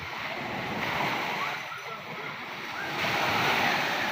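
Ocean waves breaking along the shore near Pamilacan island, a continuous rushing surf with wind buffeting the microphone, swelling louder toward the end; voices may be faintly present.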